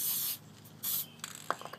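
A spray can sprays adhesive onto a bucket in two loud, close, sustained hissing bursts, followed by light rubbing and handling sounds.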